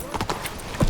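Roach the horse's hooves clip-clop at a steady trot in The Witcher 3, moderately close, with faint voice and ambient game sound around them.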